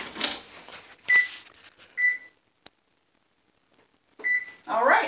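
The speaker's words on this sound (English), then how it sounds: "our timer's going off, so we're going to shut that off" A kitchen timer beeps while pecan pie bars bake in the oven, a few short electronic tones separated by quiet gaps, with clattering and kitchen handling noise around them.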